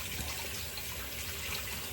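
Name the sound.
hot water running from a tap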